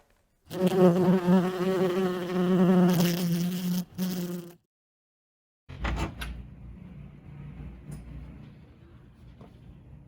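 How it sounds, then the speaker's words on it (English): Steady, close bee buzzing for several seconds that breaks off, then quieter buzzing resumes with a few soft clicks. "Where is that bee?"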